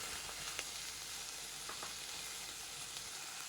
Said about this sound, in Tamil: நெக்ஸ்ட்டு இதில் 10 பல்லு பூண்டு, ஒரு துண்டு இஞ்சி இடித்து வச்சுருக்கேன், அதையும் உள்ள சேர்த்துக்கலாம்.